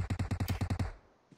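A rapid burst of about nine gunshots fires in PUBG Mobile, loud and evenly spaced, then a fading tail and one faint distant shot.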